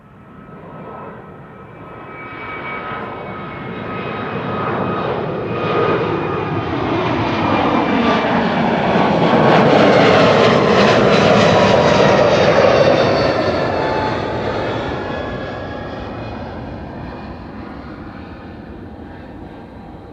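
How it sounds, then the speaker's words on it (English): A JetBlue Airbus A321neo takes off from Amsterdam Schiphol, its jet engine roar building from a distance, peaking loud and broad as it passes, then slowly fading away with a whining tone, and no talking over it. "JetBlue to Boston should be next, the A321neo in the look-alike ETA livery"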